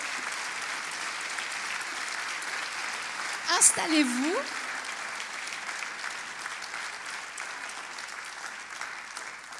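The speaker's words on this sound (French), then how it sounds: "on peut vous applaudir." Audience applause for award winners at the HERA Awards 2024 ceremony, a continuous wash of clapping that runs throughout while a presenter speaks over it.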